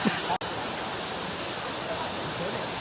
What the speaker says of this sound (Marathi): ऐंशी मे महिना अर्धा झालाय तरी एवढा पाऊ तरी एवढं पाणी पडते वरून